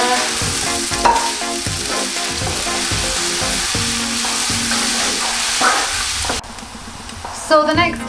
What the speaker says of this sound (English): we're going to add the onions into the pan